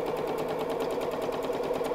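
A sewing machine stitches a craft mat bag, its rapid rhythmic needle clatter running steadily and close for two seconds without pause.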